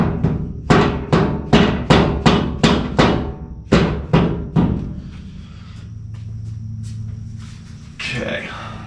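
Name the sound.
dead blow hammer tapping speed panel forward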